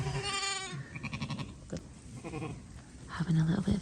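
A very small ewe bleats during lambing with a single lamb, giving several close, wavering cries in short bursts, with a voice talking briefly between them.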